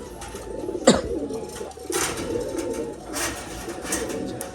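Biscuit pigeons in a loft coo softly and repeatedly, fairly close, with a sharp flutter or bump near the start and low rustling between the calls.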